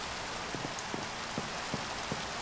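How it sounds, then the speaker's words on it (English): Rain falls in Minecraft Skyfactory 3 as a constant, even hiss, with a few soft drop-like ticks scattered through it and no speech. "I'm glad it's raining so these crucibles just fill up."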